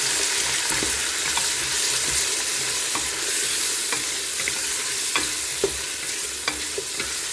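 Beef pieces and onions sizzle steadily in a hot pot while being stirred, with scattered scraping clicks of the utensil over the constant frying hiss, close and even in loudness.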